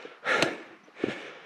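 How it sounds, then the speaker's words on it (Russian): Heavy breathing from a hiker climbing uphill with a hot 10–12 kg backpack, two close, forceful breaths, the first longer and louder, the second shorter, with no talking. "И дышать чаще."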